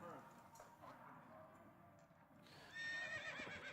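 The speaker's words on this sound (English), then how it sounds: "And we're at a horse race." Horses at a horse race neigh, with a loud, close whinny rising near the end and hoofbeats under steady background talk.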